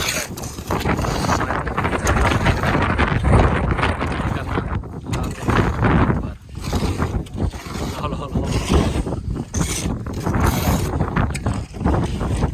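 Strong wind gusting outdoors at a rooftop building site where bricks are laid and tin sheets are being fitted, roaring steadily into the microphone throughout with little letup and muffled voices faintly underneath.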